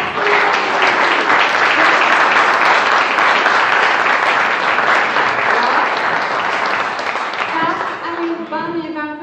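Seminar audience applauding speakers after a discussion on faith-based independent schools: loud, dense clapping for most of the stretch, fading near the end as a voice begins speaking.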